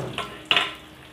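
Cashews and raisins fry in ghee in a pan, giving two short bursts of hissing sizzle, each sharp at the start and then fading under a steady background.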